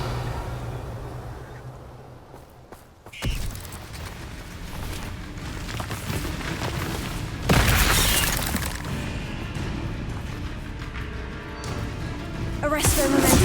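Bombarda blasting spell explosions from the Hogwarts Legacy video game: a sharp burst near three seconds, a louder, fuller blast at mid-clip, and another flare at the end, over a steady bed of game ambience.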